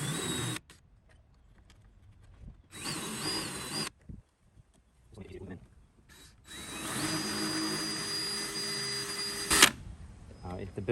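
Power drill lightly boring countersink holes for knobs in a radio cabinet during a Bluetooth player build, short bursts of whirring separated by silences, then a longer steady run ending with a sharp click, with someone talking in between.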